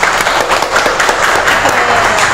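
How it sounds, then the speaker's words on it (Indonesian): Audience applause at an art talk event in Bandar Lampung, a steady dense wash of clapping from a small crowd, fairly loud and continuous throughout with no voices over it. "Tepuk tangan dong teman-teman."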